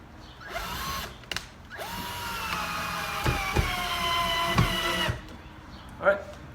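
A power drill drives screws into the joints of a wooden raised garden bed, steady whirring runs with pitch rising and falling, broken by short pauses and a few knocks, fairly close and loud.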